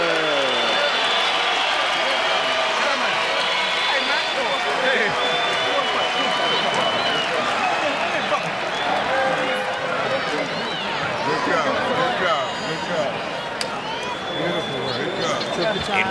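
A small boxing crowd applauds and cheers after Floyd Mayweather's knockout win over Sharmba Mitchell, with steady clapping throughout and a commentator talking over it.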